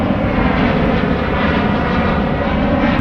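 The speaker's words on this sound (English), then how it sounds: "It's another plane." An airplane flies over Washington DC, its engine a steady, loud broadband roar that holds constant throughout with no voices.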